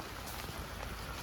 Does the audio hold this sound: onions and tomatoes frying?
no